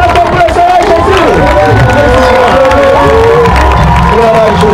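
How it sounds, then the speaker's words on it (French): A church congregation in Cameroon responds to a call to applaud Jesus, a loud, dense crowd sound of cheering, shouts and whoops with clapping mixed in, sustained throughout with voices singing or calling over it. "Applaudissons pour le Seigneur Jésus."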